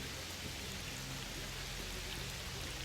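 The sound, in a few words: rain weather effect in S.T.A.L.K.E.R. Shadow of Chernobyl video game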